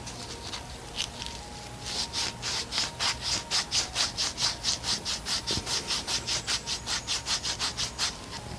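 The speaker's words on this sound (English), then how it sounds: "the corner of a piece of sandpaper. And kind of get your thumb in there. And I just kind of spin it." A wooden fishing lure being sanded by hand with the corner of a piece of sandpaper, fast rhythmic rasping strokes, about three per second, fairly close and steady.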